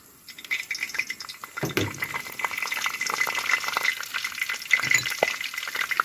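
Whole spices hit hot coconut oil with a sudden loud sizzle that settles into a steady, close crackling fry, with faint stirring and no talking.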